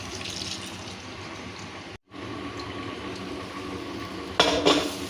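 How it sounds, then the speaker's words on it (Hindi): Cold water pours into a kitchen jug up to the 1000 ml mark, a continuous splashing fill with a brief break and a brighter gush near the end. "तो ये देखिए 1000 ml तक जो है मैंने इसके अंदर पानी डाला है"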